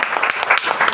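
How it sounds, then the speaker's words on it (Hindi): Brief, lively applause rises from a gathered audience at a program for a man named Vikram, a dense burst of clapping. "बहुत जोरदार ताली विक्रम सर"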